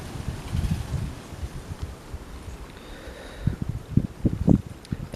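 Wind gusting through a wet garden, rustling and buffeting the microphone in uneven rumbling bursts that strengthen toward the end.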